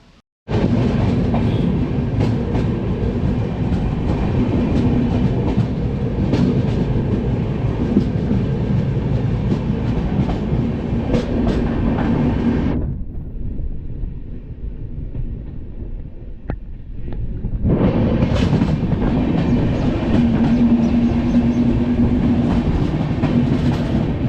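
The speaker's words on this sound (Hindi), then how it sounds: "ट्रेन का डिपार्चर यहाँ से हो चुका है, ट्रेन ने हॉर्न मार दिए।" A Delhi SF Express passenger train departing Dinanagar rumbles steadily with rhythmic clickety-clack of wheels on rails, loud and close, briefly dropping to a quieter hum midway before the clatter resumes.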